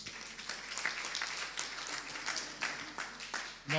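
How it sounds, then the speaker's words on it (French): A gathering applauds the SMAP committee in a French-speaking room, with faint, fairly distant clapping from a modest crowd that continues under some background voices. "applaudissez ce bureau de la SMAP"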